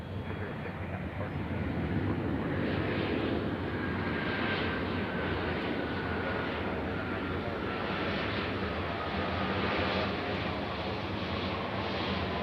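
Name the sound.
airplane landing at Nashville International Airport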